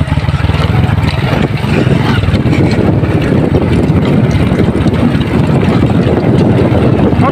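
A motorbike engine runs steadily and loudly on a ride through an oil palm plantation, its drone continuous and close throughout.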